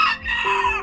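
A white chicken gives quick, close clucks and short squawking calls, loud and alone.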